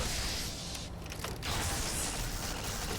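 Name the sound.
arc welder weapon firing in Fallout: New Vegas video game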